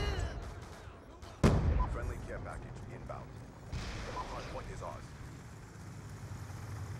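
A single sharp gunshot cracks out in a video game match, followed by a quieter second report amid low ambient rumble and faint background game noise.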